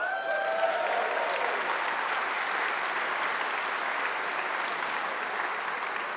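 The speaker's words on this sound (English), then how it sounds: "now you can clap" Steady, even applause from an audience at an awards ceremony fills the whole stretch, moderately distant and sustained without breaks, with a faint voice trailing off at the very start.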